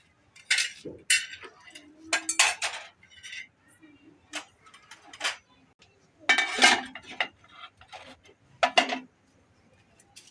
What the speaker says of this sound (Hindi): तो अभी आप ही खंगाल रही है बर्तन